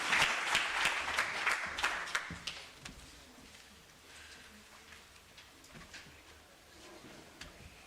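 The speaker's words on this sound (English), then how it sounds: "A round of applause" Applause at a university research and innovation week event, for Dr. Amusa. Clapping is brisk and fairly loud at first, then thins to scattered claps and room noise.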